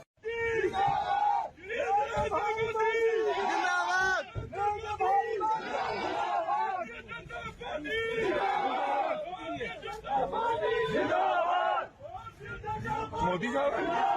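A large crowd at a Punjab political gathering chants 'Modi Zindabad' slogans, rhythmic shouted bursts of massed voices with loud chatter and hubbub between the chants.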